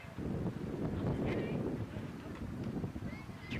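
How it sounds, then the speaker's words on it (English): Gusty wind buffets the microphone at an outdoor Little League All-Stars baseball game. It makes a loud, low, rumbling roar that swells and eases over a few seconds, with faint distant sounds in the background. "That's the wind."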